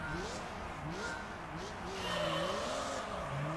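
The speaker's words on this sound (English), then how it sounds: "this car sounds like a weed whacker now with that exhaust" A Gran Turismo 3 car engine drones with a raspy, buzzing exhaust like a weed whacker, its pitch wavering up and down continuously at moderate volume.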